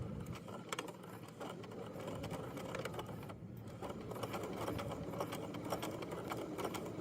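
A sewing machine stitches fabric with a steady, fast mechanical whirr and clatter that runs continuously, near and fairly quiet, with no talking.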